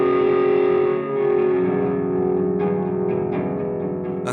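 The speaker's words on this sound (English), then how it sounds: "That beautiful sound is emulating the resonance of sympathetic strings" A guitar effects pedal emulating the resonance of sympathetic strings: sustained, shimmering distorted guitar tones with chorus-like ringing overtones, steady and fairly loud, with a few plucked notes accenting the drone near the end.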